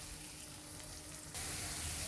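Finely chopped onion drops into hot oil with cumin in a kadhai, setting off a quiet frying hiss that swells into a louder, steady sizzle partway through.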